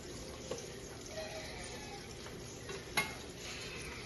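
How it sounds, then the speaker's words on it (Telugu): Ginger-garlic paste being stirred into chicken curry in a pan, with a soft continuous sizzle and scraping under a few light utensil knocks, including a sharper clink near the end. "అల్లం ఎల్లిగడ్డ వేసుకొని కలిపాను"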